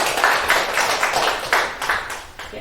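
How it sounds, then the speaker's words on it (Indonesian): An audience at an Indonesian teachers' presentation claps in a short burst, with uneven hand claps close by. "Beri tepuk tangan yang meriah Bapak Ibu."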